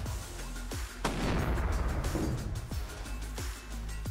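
A .308 rifle firing a Federal Power Shock 150 grain round into a ballistic gel block outdoors: several sharp booming reports, each with a short rumbling tail, spaced irregularly over a steady background rumble.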